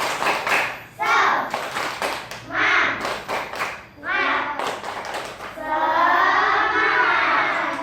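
Schoolchildren in a prayer-practice lesson do a rhythmic clapping chant, bursts of claps alternating with sung voices in a steady pattern, then a longer sustained group chant at the end.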